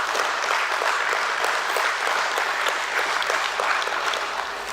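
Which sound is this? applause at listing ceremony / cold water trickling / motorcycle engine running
applause at listing ceremony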